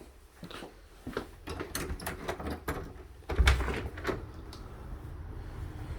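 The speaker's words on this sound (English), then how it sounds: "That's the door going outside right there." A door leading outside in a house is worked through a series of clicks, scrapes and knocks over several seconds, with a heavier thud midway, heard fairly close with no talking.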